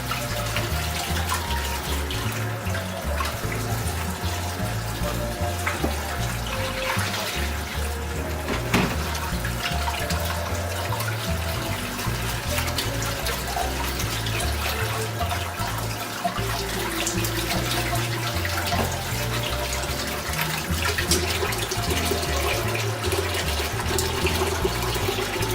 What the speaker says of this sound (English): I'm just gonna give my Goya a good wash